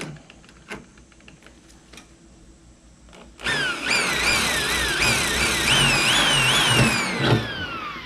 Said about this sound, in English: I'm not putting no pressure on the drill pushing down. I'm letting the drill do the work